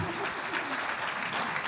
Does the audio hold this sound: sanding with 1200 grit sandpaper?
no